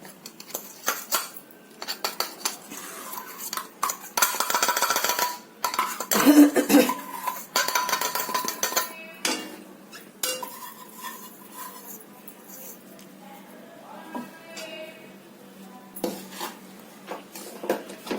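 Powdered sugar is stirred into milk powder in a pan on the stove for malai laddu, giving irregular scraping and clinking of a spoon against metal, louder in the middle and tapering toward the end.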